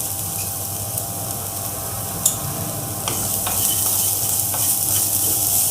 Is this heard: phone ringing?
no